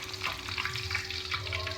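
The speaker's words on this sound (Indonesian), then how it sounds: "Goreng hingga layu dan berwarna coklat keemasan." Garlic sizzles steadily in hot oil in a pan as it fries until wilted and golden brown. The crackle is close and continuous, with no voices.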